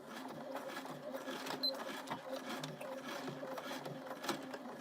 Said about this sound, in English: I'm just going to sew 3/8 of an inch seam allowance.